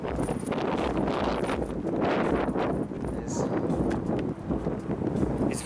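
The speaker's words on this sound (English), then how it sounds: "It's very blowy, so I'm not wearing the hat because it just blows off." Strong, gusty wind buffets the microphone outdoors in the Sedona desert of Arizona, a continuous loud roar with rumbling gust swells throughout and no clear voices.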